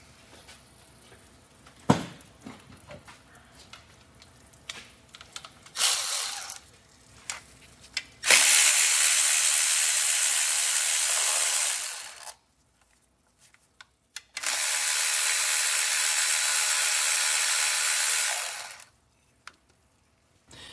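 A ratchet loosens the transmission pan bolts on a Ford 10R80 ten-speed. It starts with scattered clicks and clanks, then comes loud, steady, fast ratcheting in several long runs of a few seconds each, close up, with no voices.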